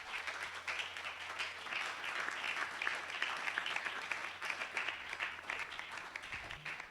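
Congregation applause welcoming the word of God at a Hindi church sermon, a continuous, fairly distant patter of many hands clapping, steady throughout and without speech.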